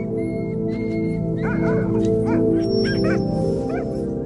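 Sled dogs in Ilulissat, Greenland, yipping and whimpering in short bursts over a steady droning background, with a few higher yelps clustered in the second half.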